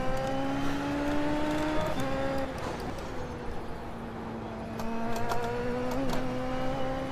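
An F1 race car engine in the F1 24 video game drones and shifts pitch steadily through gear changes, loud and continuous with a hum of track noise.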